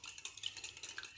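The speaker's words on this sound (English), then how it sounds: "I'm just going to beat this till it becomes nice and smooth." A mixture for an Australian meat pie beaten smooth in a bowl: a steady, quick run of soft rhythmic clicks and scrapes against the bowl, fairly faint and without voices.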